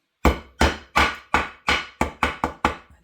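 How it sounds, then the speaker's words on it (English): Eight sharp hammer taps flattening a metal staple on a handmade journal craft, close and evenly spaced in a quick rhythm, each a crisp knock with a short decay, no voices. "I just flatten this a little bit with my hammer."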